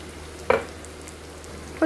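Eggplant frying in a pan for a fenugreek-spiced vankaya fry: a low, steady sizzle with two short, sharper clatters of stirring, no voices.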